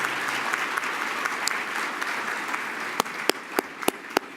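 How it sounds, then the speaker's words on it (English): An audience at an awards gala keeps up a steady wash of applause throughout, with a few sharp individual claps standing out near the end. "Let's give them another round of applause, please."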